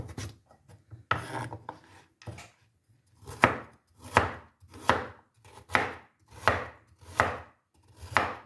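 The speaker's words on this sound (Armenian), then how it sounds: "գազարն էլ կտրեմ" A kitchen knife slices through a carrot, crisp rasping cuts at first irregular, then settling into a steady rhythm of about seven strokes roughly a second apart, close and clear, with no talk.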